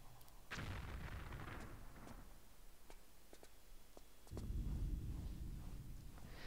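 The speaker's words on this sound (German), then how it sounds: "Müssten die Explosionen eigentlich wieder einsetzen" Two deep, rumbling explosions in Tomb Raider 5, each followed by a sustained low roar, with faint sharp ticks and pops scattered in between.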